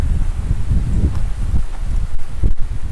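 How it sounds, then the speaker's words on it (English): Wind gusts buffet the microphone outdoors in the woods, a loud, steady rumbling roar with rustling that swells and eases over a few seconds, with no one speaking. "I'm going to hold off for the wind to quit blowing"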